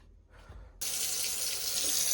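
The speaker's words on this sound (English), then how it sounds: "The very first step you want to do before you start cooking is to wash your hands" A kitchen tap turns on and runs steadily for handwashing before cooking an omelette, starting abruptly after a brief soft rustle and continuing as a loud, broad rush of water.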